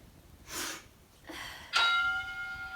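A short ringing bell marks the end of an exercise interval in a home workout, sounding once with a bright, decaying tone after two soft breathy sounds.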